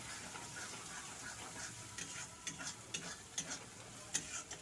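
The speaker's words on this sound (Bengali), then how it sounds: "আবারও আমি একটু সামান্য পরিমাণে জল দিয়ে দিলাম, আবারও কষাচ্ছি।" Masala for dried lotta fish bhuna being stirred and fried in a pan after a little water goes in, giving a faint, steady sizzle with soft scraping ticks that grow slightly toward the end, with no voices.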